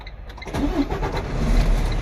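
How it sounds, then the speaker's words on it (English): A vehicle engine cranks and catches about halfway through, then settles into a steady mid-pitched idle, heard up close with no talk, ahead of an air brakes test. "First I'm going to start the engine."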